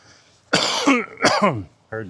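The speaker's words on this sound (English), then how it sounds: "I haven't smoked for years, but I still have a smoker's cough." Two harsh, raspy smoker's coughs in quick succession, close and loud, followed by a short voiced throat sound.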